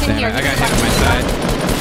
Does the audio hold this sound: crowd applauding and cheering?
no